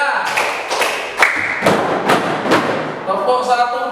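A group clapping in rhythm during a classroom break, several sharp evenly spaced claps with thuds in a room, loud and near, with a voice audible alongside.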